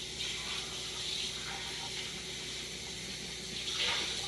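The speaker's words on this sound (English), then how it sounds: "give this a rinse" Running tap water pours into a kitchen sink during rinsing while baking banana muffins, a steady close hiss of flow with small splashing swells.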